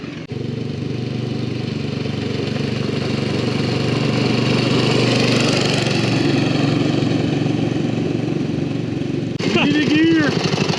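Engine of a rat rod wagon runs loud and close with a steady, rough drone throughout, and a voice whoops briefly near the end.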